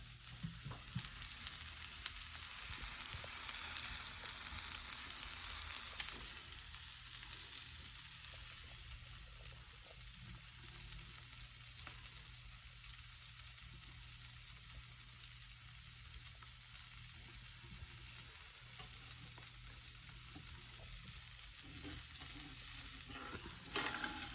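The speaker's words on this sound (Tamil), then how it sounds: "சைட்டெல்லாம் பொரிஞ்சு வந்துட்டுது" Food crisps in a hot pan with a soft, steady sizzle and frying crackle, a bit louder at first and then settling into a quieter continuous hiss, with no talk.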